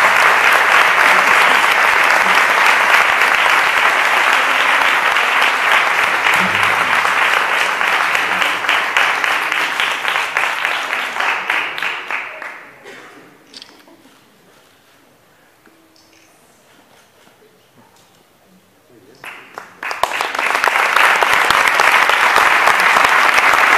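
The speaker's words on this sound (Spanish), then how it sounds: "Ahora pido un fuerte aplauso para los premiados" A large audience applauds prize winners at a drawing contest ceremony in León, loud sustained clapping that fades to near silence midway, then bursts back in at full strength.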